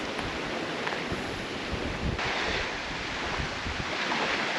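Strong wind blows steadily across an open outdoor spot in a national park, roaring and buffeting the microphone in a loud, unbroken rush with no voices.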